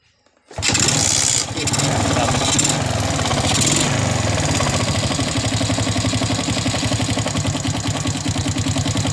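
A Honda Smash 110 motorcycle that sat dead for almost five years starts abruptly, then settles into a steady, rapid idle with an even pulsing rhythm, close and loud throughout with no talking.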